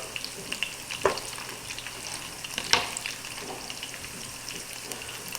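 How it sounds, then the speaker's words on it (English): Pancetta renders its fat in a hot pan for a carbonara, giving a constant crackling sizzle with a few louder pops and stirring clatters standing out against the steady frying hiss. "we want to make sure we get this pancetta, we want it to render all of its fat down, but we don't want it to burn."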